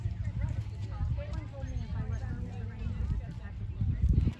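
Horses walk around a show arena with soft, irregular hoof clops close by, under an announcer's voice and light wind noise.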